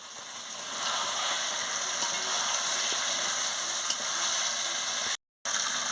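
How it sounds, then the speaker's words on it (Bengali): Chicken pieces sautéing with spices in a pan for a Bengali chicken curry with purple yam, a steady close sizzle with faint stirring and a brief dropout near the end. "দিয়ে মাংসটা মশলার সঙ্গে ভালো করে কষিয়ে নিচ্ছি।"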